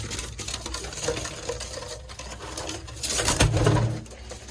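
A female pigeon coos once with a low, throaty warble, close by, amid light rustling and faint background noise.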